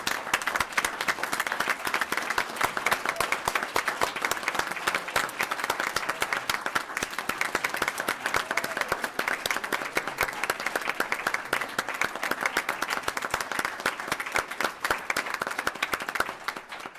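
An audience at a council meeting bursts into loud, sustained applause, dense rapid clapping that keeps an even intensity throughout.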